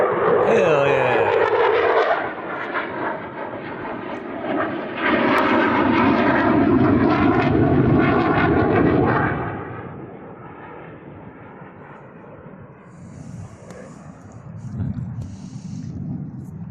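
Military aircraft roaring overhead near an inshore fishing spot on Florida's Space Coast, a loud broad rush that swells and holds for several seconds, then fades into a softer distant drone.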